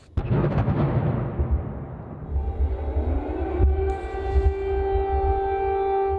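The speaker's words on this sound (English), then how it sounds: "But as the sirens wailed again overnight" Air raid sirens wail across Kyiv at night, a loud sustained tone with rising pitch that swells and holds over a low rumbling background, with no speech.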